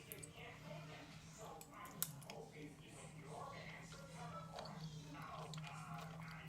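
Close, soft chewing and biting of homemade chicken noodle soup and a grilled cheese sandwich, quiet mouth sounds repeating over a low steady hum with faint background noise.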